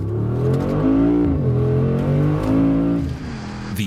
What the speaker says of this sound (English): A big turn and return to the home straight when kickdown is activated.